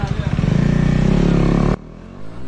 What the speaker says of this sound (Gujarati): ફાઇનલી બાઇકનું લાગી ગયું છે એક્ઝોસ્ટ